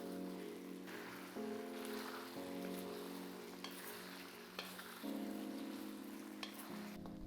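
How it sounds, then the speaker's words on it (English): Lamb pieces fry in a wok for a Xinjiang spicy cumin lamb dish, a steady close sizzle running throughout with a few scraping stirs, no voices. "Let it fry for 1 minute. Stir and fry for 2 to 3 minutes until change color."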